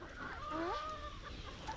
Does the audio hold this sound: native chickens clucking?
yes